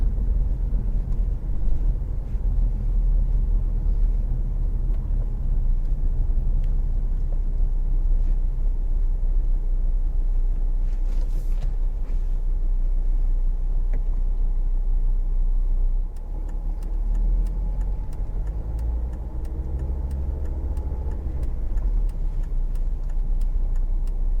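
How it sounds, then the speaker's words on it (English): Steady road noise and engine rumble inside a car driving from Wootton to Canterbury through busy morning traffic, a continuous low drone with passing-vehicle swells and light wind buffeting throughout. "there is a lot of traffic this morning"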